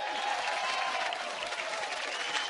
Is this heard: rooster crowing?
no